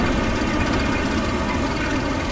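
A tank engine in the World War II video game Codename: Panzers rumbles at a steady, loud idle, a dense low churning drone that holds constant throughout with no speech.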